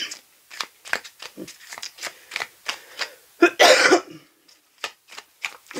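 A person with bronchitis coughs in a short burst between soft spoken French phrases, the coughing close and fairly loud against the quieter talk.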